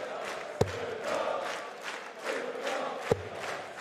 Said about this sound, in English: Vociferous crowd, still full of energy.